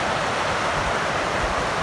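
Steady broadband rush of a Colorado Rocky Mountain creek flowing close by, continuous and fairly loud with no voices.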